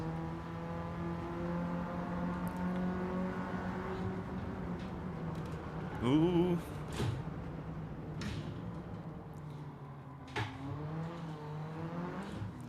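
Race car engine in Gran Turismo 7 with an H-pattern gearbox and sports tires, a steady droning hum with a quick rev spike midway and gear-change blips, a brief exclamation over it.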